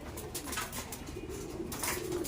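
Soft, low pigeon cooing repeats in gentle rolling phrases, faint against a background hiss, with no talking.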